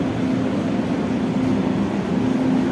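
Ex-Japanese KRL Tokyo 8518 electric commuter train, built by Tokyu Corp. and in service in Jakarta since 2008, rumbles steadily at close range with a sustained low drone and a faint motor hum, no voices.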